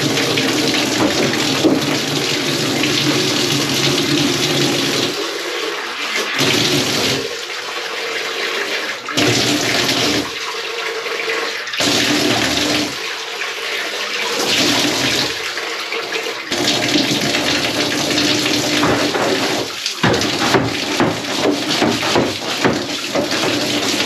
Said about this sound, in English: Give this a rinse first.